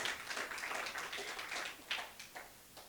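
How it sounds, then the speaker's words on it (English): Audience applause at a blockchain event in Lagos, Nigeria: steady, moderately quiet clapping from a crowd, with a few sharper claps standing out near the end. "I think I need another applause just to cheer me up"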